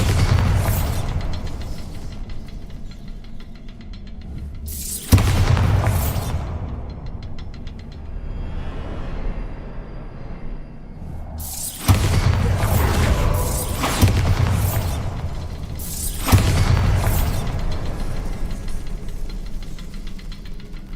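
Repeated Bombarda explosion spells go off in Hogwarts Legacy, several loud booming blasts spaced several seconds apart, each a sharp burst followed by a rumbling decay, with quieter low ambience between them.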